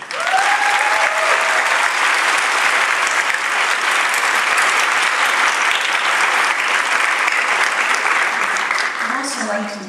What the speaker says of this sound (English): I would like us all to give this extraordinary, and they truly are, an extraordinary staff a huge round of applause.